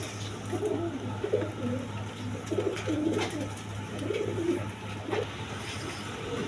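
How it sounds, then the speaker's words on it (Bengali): A pair of Blackless Shading pigeons coo in soft, repeated low phrases at close range, with other pigeons joining in over a steady background hum. "এক পেয়ার ব্ল্যাকলেস শাড়িং কবুতর আছে দেখেন কোয়ালিটি সম্পন্ন কবুতর"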